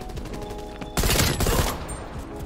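Rapid bursts of M16 rifle fire in the video game Black Ops Cold War, a loud, dense volley erupting mid-clip for about a second over steady game background noise.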